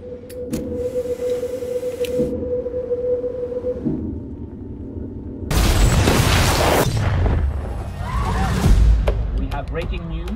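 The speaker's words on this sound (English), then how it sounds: "a large explosion has gone off in the center of the city" A deep, loud boom erupts suddenly in a city center and rumbles on for several seconds, with crackling debris-like noise, following a steady mechanical hum.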